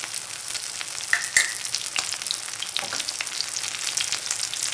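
Seafood green onion pancake sizzles steadily in cooking oil in a pan, a continuous close crackle with a couple of brief brighter pops near the start and no voices.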